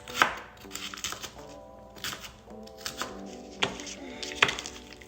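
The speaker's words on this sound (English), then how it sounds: "And we're just gonna cut this." Knife chopping through cabbage on a cutting board for a festive kale salad, a series of crisp close cuts at an uneven rhythm, with soft tonal kitchen sounds in between.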